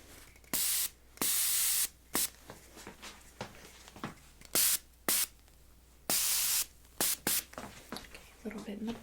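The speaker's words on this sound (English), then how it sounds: "I'm just going to add your hairspray here." Hairspray hisses onto styled hair in a series of short, close bursts of varied length, separated by quiet pauses, with faint handling noises between sprays.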